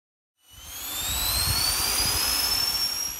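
A small bladeless drone with a ducted fan spins up from silence into a loud, steady high-pitched whine with rising tonal harmonics, sustained close by with no voices.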